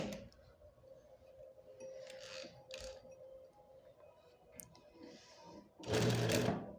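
A sewing machine runs steadily at low volume while stitching fabric for a neck design, with faint mechanical clicks and creaks. A louder burst of rattling comes near the end.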